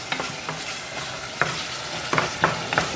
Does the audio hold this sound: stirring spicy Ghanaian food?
yes